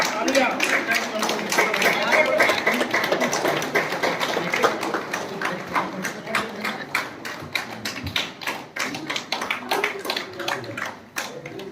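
An audience at a school Republic Day event keeps up rhythmic, sharp clapping to encourage girls performing. The claps are close and slightly uneven, and they thin out toward the end.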